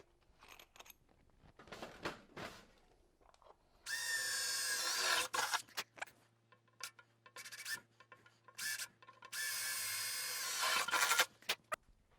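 A power drill bores 5/16 holes for a pannier installation, two sustained loud whining bursts with a steady motor hum, surrounded by handling clicks and rustles.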